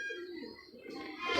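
A pigeon coos close by in a short, soft, throaty call, with faint background noise and no talking.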